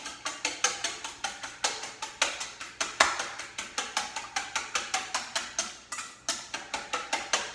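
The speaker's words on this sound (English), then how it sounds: "So I have my 2 eggs, which I'm going to whisk" Two eggs whisked in a bowl for blueberry muffins: a steady run of quick, crisp clicking strokes, close and even in rhythm, continuing without pause and with no talking.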